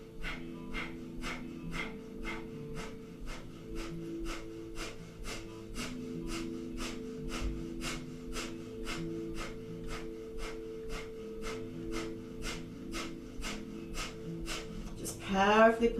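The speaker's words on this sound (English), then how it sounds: "we'll begin a minute of breath of fire here. Panting like a dog through the nose" Rapid breath of fire in a Kundalini yoga class: quick, rhythmic panting through the nose, about two sharp breaths per second, steady and close over a soft sustained music drone, with a brief louder breath at the end.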